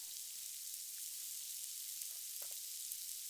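Burger patties sizzle on a hot grill, a steady faint hiss of frying fat with occasional small pops throughout.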